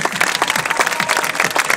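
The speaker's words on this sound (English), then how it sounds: "applause, round of applause, please" Circus audience applause, dense and steady clapping from a crowd close by, sustained throughout.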